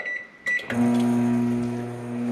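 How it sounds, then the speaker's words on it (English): A microwave oven warming a tortilla beeps, then its door thuds shut and the steady loud hum of the running oven begins, close by and with no talk. "to avoid any rips in the tortilla, we'll heat it up in the microwave for about a minute"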